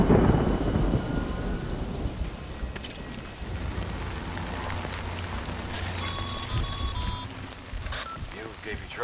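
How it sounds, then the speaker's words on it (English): Thunder rolls over steady rain in the Death Stranding video game. A strong rumble at the start fades into continuous rainfall, with a few brief electronic beeps later on. "Good thing it was raining."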